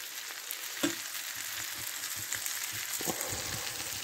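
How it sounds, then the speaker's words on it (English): Vegetables stirred into rice in a pan on a wood-burning stove inside a hot tent while camping in a back garden, giving a steady hiss with a few soft scraping knocks, close by and without talking. "I'll just mix that veg into that rice"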